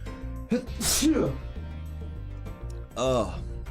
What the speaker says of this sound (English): Oh, I meant to sneeze.